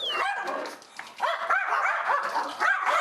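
Three dogs bark noisily in greeting at close range, a rapid overlapping burst of barks, yips and whimpers that keeps going throughout.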